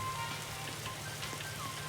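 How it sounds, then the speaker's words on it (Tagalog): Steady soft patter of rain on a surface with a faint low hum beneath, even and continuous throughout. "Umuulan sa loob ng UFO."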